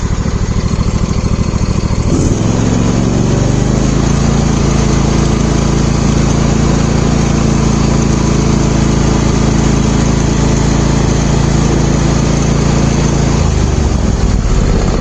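A Briggs and Stratton small engine runs loud and steady, then revs up sharply around two seconds in and holds a high, constant drone before dropping back toward idle near the end, with no voices.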